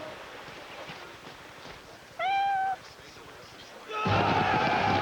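A calico kitten stuck in a tree gives one short, clear meow partway through, heard among people talking and outdoor background noise in a television commercial scene.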